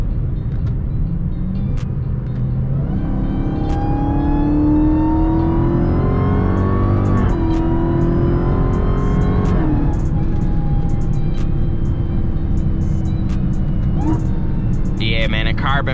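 A Dodge SRT Durango Hellcat roars through hard acceleration pulls, its engine note climbing and rising in pitch with a shift partway through, loud and close from inside the cabin, with people talking over it.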